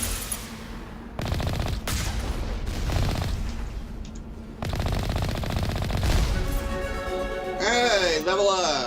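Rapid machine-gun bursts from turrets in the Mass Effect video game, loud and sustained in several stretches, with electronic game tones near the end and someone talking over the shooting.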